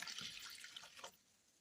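Water pours briefly into a glass in a home kitchen, a soft close splash lasting about a second before trailing off into quiet.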